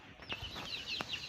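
Brown Dekalb hens cluck softly in a short burst of a few low clucks and squawks at close range over faint background noise.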